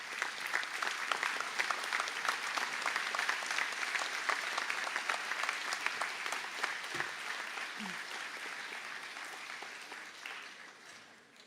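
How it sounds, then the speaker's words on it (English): Supporters give new graduates a long round of applause at a college conferring ceremony, dense and steady clapping from a large crowd in a hall that fades slightly toward the end. "please give them a round of applause as a bit of a thank you"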